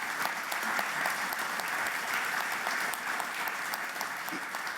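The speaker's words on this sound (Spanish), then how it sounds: "yo sí les quiero dar un aplauso muy grande y muy sentido" A crowd at a hospital inauguration in Tlaxcala claps in sustained, dense applause, steady and fairly loud from start to finish with no break.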